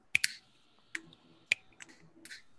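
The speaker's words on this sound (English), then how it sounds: "Snap your fingers." Several people snap their fingers at a live storytelling session, giving a handful of sharp, dry clicks at uneven intervals, some single and some in quick pairs, close and clear against a quiet room.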